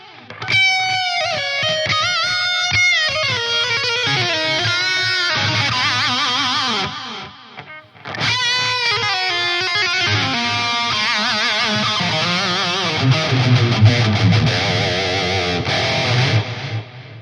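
Electric guitar played through a Wavemind dual-rectifier amp simulator with a delay effect, distorted melodic lines trailing echoing repeats and a faint chorus-like shimmer, loud and continuous with one brief pause midway.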